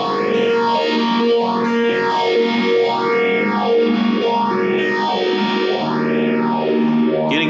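Sustained electric guitar tones swept by a deep, slow MXR Phase 95 phaser pedal, the tone rising and falling in regular waves about every second and a half, loud and alone.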